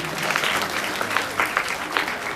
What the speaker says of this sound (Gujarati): ત્યારબાદ જોરદાર તાળીઓથી વધાવો.